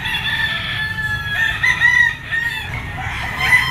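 A yellow-legged stag rooster crows at a busy outdoor pet market, its strained, wavering call rising and falling over a few seconds, close and fairly loud above a low murmur of market background.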